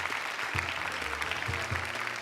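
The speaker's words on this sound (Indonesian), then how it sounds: "Boleh tepuk tangan dan semangat untuk mereka." Audience applause at an Indonesian children's Quran memorization competition show, a steady broadband wash of clapping across the whole stretch, with faint low voiced sounds and music beneath it.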